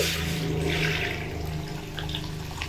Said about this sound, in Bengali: কড়াইয়ের মধ্যে গরম জল দিয়ে দিচ্ছি